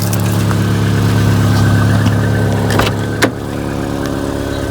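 A car engine runs steadily at idle, a constant low hum with a couple of brief clicks and knocks partway through, heard up close with no talking.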